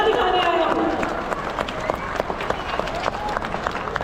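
A crowd at the Republic Day ceremony at the Attari Wagah Border claps for a dog performance with BSF Jawans, dense applause fading slightly over a few seconds, with a commentator talking over it.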